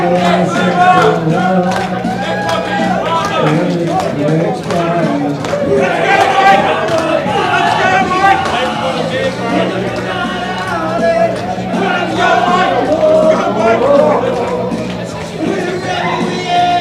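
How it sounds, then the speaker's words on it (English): A crowd at a working men's club packs the room with dense clapping, cheering and chatter as a man comes out, loud and sustained with voices shouting over the noise. "Here he comes, the crowd is clapping."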